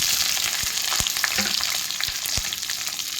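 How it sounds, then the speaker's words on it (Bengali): Chopped onions frying in hot oil with whole spices, cinnamon and cloves, a loud, steady sizzle close up, broken by a few sharp clacks of a spatula stirring the pan. "পেঁয়াজটা একটু বাদামি বাদামি করে ভেজে নেব।"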